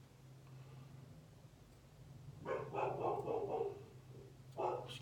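A pet dog indoors barks at a noise, a short burst of muffled barks from another room heard faintly over a low hum, followed by one more brief bark.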